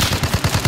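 Automatic gunfire from the Warzone battle royale video game: a rapid, steady run of loud, punchy shots in close succession, with no talking.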